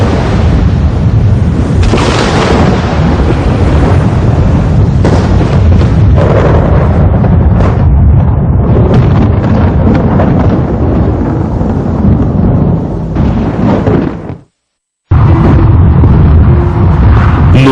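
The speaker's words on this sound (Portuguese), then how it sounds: "Um raio foi criado." Loud, sustained rumbling thunder from a lightning bolt rolls on for many seconds with shifting crackles and booms, cut by a brief moment of silence near the end before the roar resumes.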